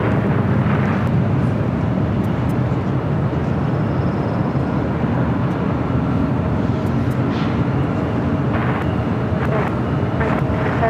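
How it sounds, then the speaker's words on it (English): Qantas Airbus A330 jet arriving at LAX from Brisbane: loud, constant broadband engine roar mixed with wind rumble on the microphone, steady from start to finish, with brief higher tones flickering through. "That's Qantas A330 coming from Brisbane."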